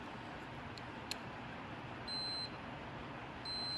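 Two short high electronic beeps from a tester checking 1964–66 Ford Thunderbird window switches, each about half a second and spaced apart, over a quiet background hiss with a faint click.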